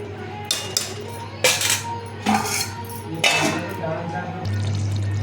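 A metal spoon stirs curry seasoned with garam masala in a pot, making loud close clanks and scrapes in several bursts, then a lid is set on the pot; a steady hum runs underneath.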